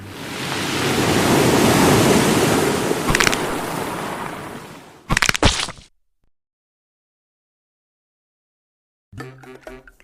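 Roaring tsunami waves crash in the Roblox Tsunami Game, a loud surging wash that rises then fades, followed by a few sharp bursts, a stretch of complete silence and a faint voice at the end.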